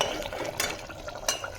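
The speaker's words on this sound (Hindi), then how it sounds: "बस भून रहा है, भूनना बाकी है।" Korma fries in oil in a home kitchen pot, a soft low sizzle with two brief stirring scrapes of a spoon against metal.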